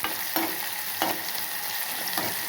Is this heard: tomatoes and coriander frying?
yes